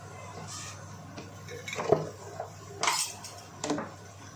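Onions and tomatoes are stirred in a pan for aloo palak sabzi, producing a few scraping clinks of a spoon on metal over a low background hum.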